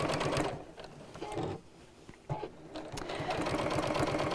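A sewing machine stitches around a fabric gift bag with a steady, fast, close mechanical whir that dips briefly in the middle and then runs on at full pace.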